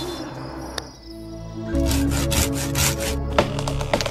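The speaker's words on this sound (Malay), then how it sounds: "Kita ambil gergaji dulu." A saw cuts through wood in the Horror Tale 3 video game, a steady rasping stroke rhythm starting after a quiet moment with a faint click, loud and close, with no talk over it.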